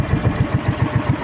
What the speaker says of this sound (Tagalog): Buti na lang napatakbo natin ang makina